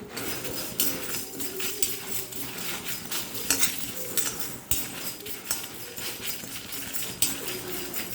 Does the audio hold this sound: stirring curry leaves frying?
yes